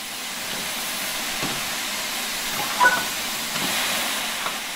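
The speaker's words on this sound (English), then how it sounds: "When the locomotive has been left standing, you'll want to open the cylinder cocks or remove any water." Steam hisses steadily from the opened cylinder cocks of a steam locomotive in the Train Sim World 5 game, a loud continuous rush with faint chuffs and a brief louder blip partway through.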